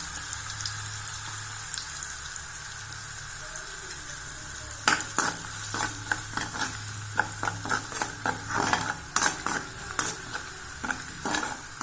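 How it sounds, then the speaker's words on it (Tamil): Chili powder, turmeric and spices are stirred in oil in a pan for a raw banana fry, a soft low sizzle at first, then repeated close scraping stirs in an uneven rhythm. "இந்த மிளகா வாசம் போக நல்லா வதக்கணுங்க."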